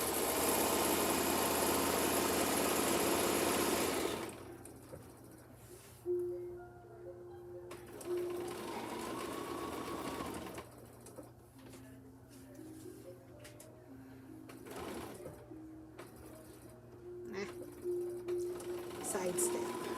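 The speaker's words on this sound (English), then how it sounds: "you can use your big beastie machine for free motion quilting and for quilting your bigger projects" A sewing machine does free motion quilting in loud bursts of stitching, starting with a long steady run, then shorter stop-and-start runs with pauses, with quiet talking in between.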